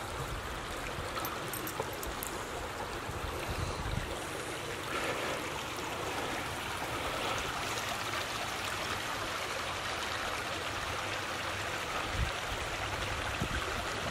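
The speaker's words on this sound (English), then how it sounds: "Thought we'd come down here and check out the creek." Creek below Abbott Lake at Peaks of Otter Lodge, a steady, fairly faint rush of flowing water that continues evenly throughout with no voices.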